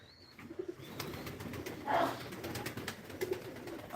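Soft, low cooing from pigeons and doves in a loft, faint and somewhat distant, repeating over a quiet background without speech.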